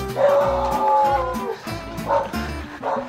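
A dog barks and yips several times in quick succession, fairly close, with whiny, excited tones and a steady background hum.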